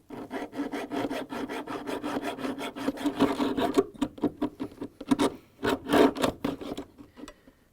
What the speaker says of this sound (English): placing hacksaw and start cutting